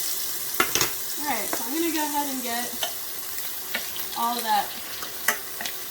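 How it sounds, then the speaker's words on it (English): Chicken breasts sizzle in a frying pan with a steady crackling hiss, broken by scraping stir strokes, while a person talks over it. "all the sizzling and everything definitely is noisy."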